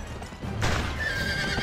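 A horse in the video game GUN gives a loud, close whinny over the clip-clop of hooves, brief and unaccompanied by talk.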